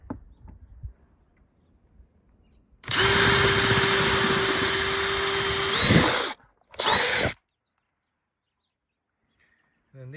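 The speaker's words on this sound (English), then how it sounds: "I just drilled out that rivet, that one, start drilling this one out." A power drill whines loudly for about three seconds drilling out rivets on an Airstream Argosy roof, then a second shorter burst follows after a brief pause, with quiet surroundings before and after.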